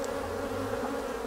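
Honey bees at a beehive give off a steady, dense buzzing hum that holds even and close throughout, with no voices.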